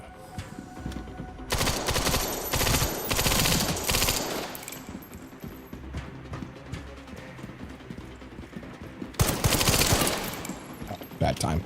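Gunfire in Resident Evil: Requiem comes in two loud bursts of rapid, rattling shots, with quieter game sounds and faint movement between them.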